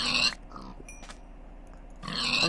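Pigs in modded Minecraft give short snorting grunts. Brief bursts are heard at the start and end, with quieter game sounds between them.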